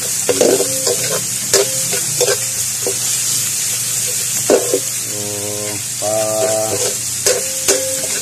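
Garlic browning in a pan for squid adobo, a continuous sizzle broken by sharp stirring clinks and scrapes from a utensil against the pan.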